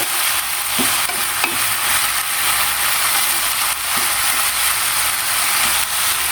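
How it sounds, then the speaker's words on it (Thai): Pork stir-fries with lemongrass in a hot pan, a constant bright sizzle punctuated by scraping, clicking stirs of the spatula, loud and close with no talking. "ผัดให้หมูแห้งๆนะคะ"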